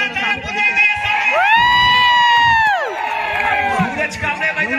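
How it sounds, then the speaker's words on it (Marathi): Spectators cheer and shout at a village kabaddi match between Malgund and Ratnagiri, a loud close roar of voices with whoops rising and falling over about five seconds; no distinct clapping stands out. "सामना आवडला असेल तर जोरदार टाळ्या पुन्हा एकदा"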